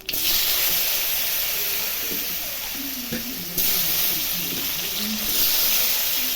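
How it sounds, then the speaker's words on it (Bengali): Black cumin seeds and potatoes fry in hot oil with a loud, steady hiss and sizzle close by, briefly dipping then surging again, while faint clinks and stirring noises sit underneath. "এখন এই তেলে কালো জিরা সম্বরা দেবো আর আলুগুলো দিয়ে দেবো"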